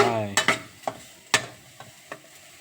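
Eel stir-fried with fingerroot, chili and kaffir lime leaves in a pan, with a soft steady sizzle broken by a few sharp scraping stirs of a utensil, close and fairly quiet.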